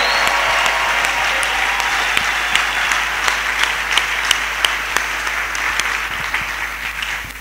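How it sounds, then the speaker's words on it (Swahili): A church congregation applauds loudly and steadily, dense close clapping with a few sharper claps standing out, tapering slightly at the end. "Naweza kubapikia tena makofi na nguvu."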